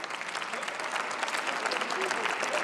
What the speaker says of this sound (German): Ihr Klatschen ist mir völlig egal